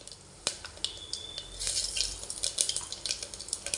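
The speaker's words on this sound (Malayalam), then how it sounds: "വെളിച്ചെണ്ണ ചൂടായി വരുമ്പം പെരുംജീരകം, കറുകപ്പട്ട, ഗ്രാമ്പ് ഇതെല്ലാം കൂടെ എണ്ണയിലിട്ട് കൊടുക്കണം." Fennel seeds, cinnamon and cloves hit hot coconut oil for a beef curry, with sharp clicks and a crackly sizzle that builds and keeps popping, close and moderately quiet.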